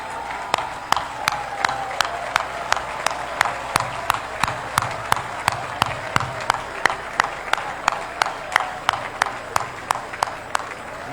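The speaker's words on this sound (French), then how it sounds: "je vais vous prier une fois de plus de vous lever et d'applaudir pour le président Iya" A seated audience claps in a steady, evenly spaced rhythm for the late president Iya Mohamed at the inauguration ceremony of the new FECAFOOT headquarters. The sharp claps repeat at a quick regular pace over a low crowd murmur throughout.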